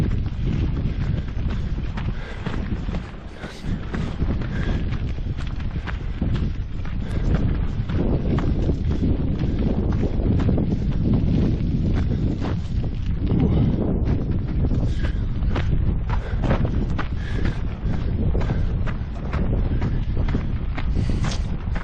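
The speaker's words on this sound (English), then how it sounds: "Windy, dusty, all in one." Strong, dusty wind blows across a junkyard, buffeting the microphone with a constant loud rumble and rustle that gusts harder near the start and never lets up.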